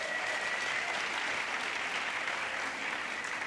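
Steady, dense applause from a large crowd at an International Women's Day 2014 event, sustained at an even level throughout with no pauses.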